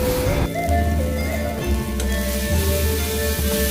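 Poppy seeds frying together with bottle gourd leaf paste in a pan, giving a steady, dense sizzle that stays loud and close throughout with no talk.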